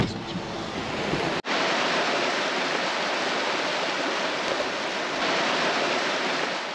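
Continuous broadband rush of a river flowing, steady and fairly loud, heard from a sunny riverbank, with a brief dropout near the start, no talking.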